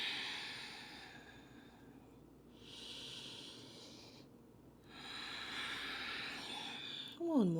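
Slow breathing in child's pose during a yoga session for hips and back, faint and close, with soft airy inhales and exhales in a few gentle waves.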